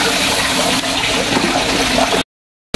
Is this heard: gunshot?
no